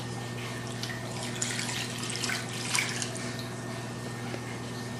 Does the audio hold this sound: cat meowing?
no